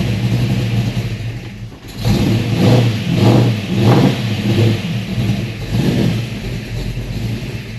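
A 1966 Ford F100 or 1973 Mach 1 Mustang engine revs up and down repeatedly in several rising bursts, loud and close, with a rough rumbling idle underneath.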